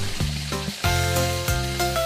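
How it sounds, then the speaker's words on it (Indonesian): Chicken pieces frying in hot oil while a home cook prepares a special dinner, a close, steady sizzle with bursts as pieces are added or shifted, with low humming harmonic tones underneath. "sekarang aku mau langsung goreng ayamnya aja"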